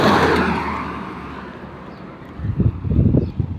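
A car sweeping past close by, a broad whooshing road roar that is loudest at first and fades away, followed by low rumbling thuds near the microphone.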